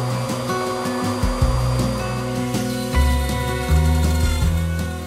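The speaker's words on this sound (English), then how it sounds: "I use the dust collection shroud on my router hooked up to my dust extractor." A Trend cordless router cuts a sign into oak, with its dust shroud hooked to a running dust extractor, giving a loud, close, steady whine that dips in pitch as the bit bites the wood.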